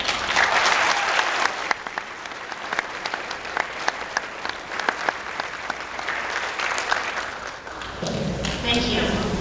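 Audience applause at a college commencement ceremony greets a life coach coming to the stage, steady dense clapping filling the hall throughout, with scattered louder claps and a voice briefly audible near the end.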